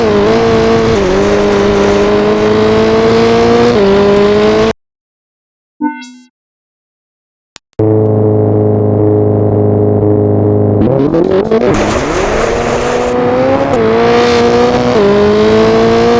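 Rally car engine in Richard Burns Rally revving loud and steady with shifting pitch, cutting to near silence mid-clip, then roaring back with rising acceleration and gear changes.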